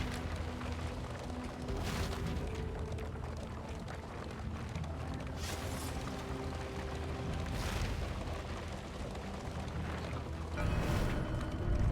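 Smoke bombs burst in Darkest Dungeon II with soft whooshing booms at intervals over a constant low game rumble and music bed, the last burst loudest near the end.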